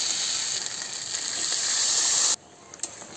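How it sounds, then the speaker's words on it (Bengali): Water poured into a pan of frying spiced potatoes sets off a loud, bright sizzle and hiss that roars steadily for about two seconds, then cuts off sharply, leaving a quieter simmer with a small clink. "এবার এর মধ্যে জল দিয়ে দেবো।"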